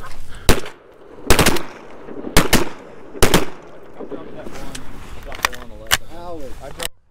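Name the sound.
gunshots while hunting geese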